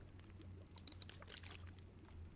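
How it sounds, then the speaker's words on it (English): A quiet, brief pouring and gulping water sound as the character drinks in The Long Dark, a short burst of splashy sloshes over a low steady hum, with no one speaking. "Drink some water."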